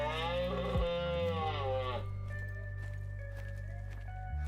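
Cattle lowing in the Call of the Wild hunting game, several long drawn-out moos overlapping at the start, then a steady low bellow and faint tonal calls carrying on alone without talk.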